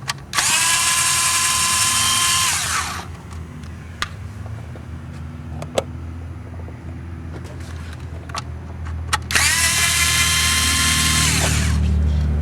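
Power drill backing out the four bolts on the front coil cover of a 1995-2001 Nissan Maxima, heard as two loud, close whirring bursts with quieter clicks and handling noises between them.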